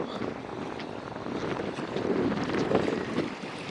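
Strong wind roars across the microphone at a fish market in Ponnalai, Jaffna, in a continuous rushing blast, swelling louder toward the end, with faint water sounds beneath.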